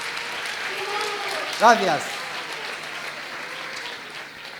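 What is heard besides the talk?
audience applause after a magic card trick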